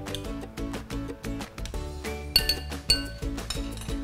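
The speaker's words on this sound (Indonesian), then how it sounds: "Kita aduk rata." Chicken pieces stirred into beaten egg with minced garlic in a glass bowl, a quick series of light clinks and taps of the utensil against the bowl, close and distinct, with no talking.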